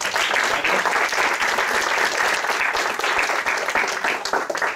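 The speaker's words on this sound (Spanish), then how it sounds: "Les pido un aplauso." Sustained applause from an audience at a university research session, dense and steady clapping that fills the whole stretch without pause.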